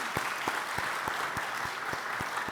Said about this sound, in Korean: 축하하는 힘찬 박수 한번 하겠습니다